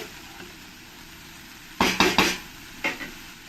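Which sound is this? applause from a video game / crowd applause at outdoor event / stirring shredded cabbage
stirring shredded cabbage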